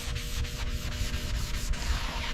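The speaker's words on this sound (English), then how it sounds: "Hours of sanding." Body filler is sanded on a Porsche car body in a steady, close, gritty rubbing, with a few stroke breaks marking the back-and-forth passes and no voices.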